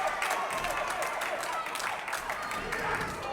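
Steady crowd noise and applause at a live wrestling show in Harlow, a dense continuous roar of cheering and clapping filling the hall, with voices mixed in.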